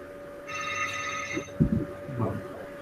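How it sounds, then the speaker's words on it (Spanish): Telephone ringing during an online physics lecture, a single electronic trill lasting about a second at moderate volume, followed by a few faint knocks and a brief murmur of voice. "Alguien está llamando por teléfono"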